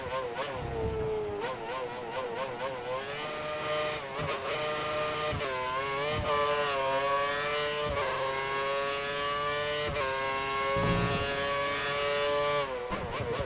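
Caterham Formula 1 car engine in F1 2013 at the China circuit, a high continuous whine rising and dropping with sharp gear shifts through about a dozen seconds, loud and steady with no talking.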